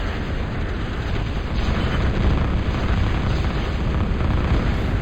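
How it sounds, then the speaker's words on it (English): A continuous loud, rumbling roar of explosions from a bombing run in a video game, dense and sustained with no breaks, swelling slightly partway through. "Another bombing run coming in for me"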